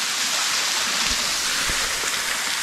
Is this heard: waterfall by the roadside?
yes